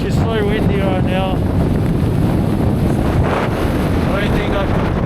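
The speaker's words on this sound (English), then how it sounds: "It's so windy right now." Strong wind pounds the microphone near Víti crater in Iceland in a constant loud, low roar, with a faint voice barely audible beneath the buffeting.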